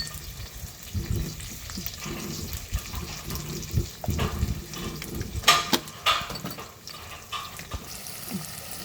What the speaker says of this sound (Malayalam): ഞാൻ പുളിയും കൂടി ഇതിനകത്തോട്ടിട്ട് വഴറ്റുവാണ്.